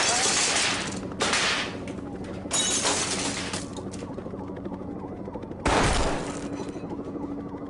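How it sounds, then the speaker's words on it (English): Gunfire from a shooting in a school library: several loud, sharp shots and bursts ring out up close, separated by echoing gaps, with a faint voice in the background. "He's shooting in the library right now."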